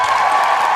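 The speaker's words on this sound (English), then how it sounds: "I like that you clap for yourself in there" Applause from a podcast host clapping for himself in the studio, a steady dense burst of claps lasting under a second, close and fairly loud with no talk over it.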